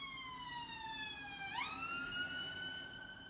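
An emergency vehicle siren wails with a steady rising and falling tone, then abruptly shifts pitch partway through, sounding fairly close and clear with no talking.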